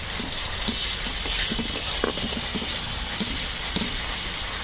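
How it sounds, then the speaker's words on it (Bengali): Spice paste stirred and fried in a pan for a Bengali pulao and curd okra dish, a soft steady sizzle broken by irregular scraping clicks of the spoon, close up, with no talking. "এবার মশলাটাকে ভালো করে কষিয়ে নেব একটু।"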